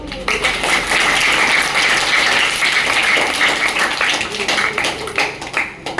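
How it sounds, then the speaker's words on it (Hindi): Audience at a tree-planting event clapping for themselves, a steady wash of crowd applause lasting several seconds before it tapers into scattered claps. "एक बार अपने लिए तालियां बजा लो"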